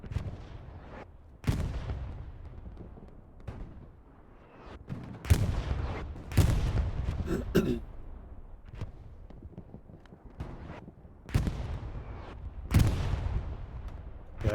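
Repeated video game gunfire and booming blasts ring out at irregular intervals during a competitive esports match, some sharp and close, others duller, over a low rumbling background.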